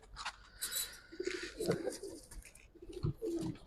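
Silver Giribaz pigeons coo in low, throaty bursts, with a few soft repeated calls rising and falling close by, mixed with brief higher chirps and faint handling noise.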